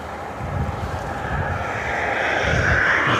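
Engines of an Emirates Airbus A350 airliner give a steady, broad jet roar that swells slightly over a few seconds, with a rising whine creeping in toward the end and no voices.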